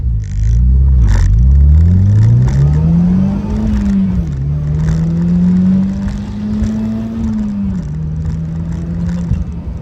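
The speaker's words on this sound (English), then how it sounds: "Just want to see what I can do from a stop. Alright, we're going to push it kind of hard here." Pontiac Solstice with a Stage 1 tuned turbo engine launches hard from a stop, revving loudly and climbing through the gears with two clear upshifts, the engine note rising steadily and close up from inside the cabin.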